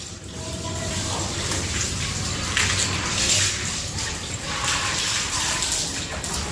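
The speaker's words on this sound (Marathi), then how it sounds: "हे बघा, मिस्टर मस्त पाणी मारताय." Water sprays and splashes across newly laid white floor tiles being washed of cement, a continuous rushing hiss with surges in intensity, close and fairly loud.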